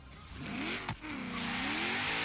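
A Nissan Skyline GT-R R34 in Forza Horizon 3 revs up close and loud, its engine pitch rising, dipping briefly as if shifting, then climbing and sweeping again with no one speaking.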